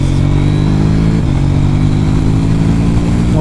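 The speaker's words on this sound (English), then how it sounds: "First time accelerating with the new Sprockets" KTM 790 Duke motorcycle in street mode with new sprockets, its engine accelerating loudly and steadily close by, with a strong low rumble and rising revs, no voices.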